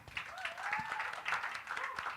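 Clapping from a live audience at an unplugged music event, a brief burst of crowd applause with cheering voices mixed in.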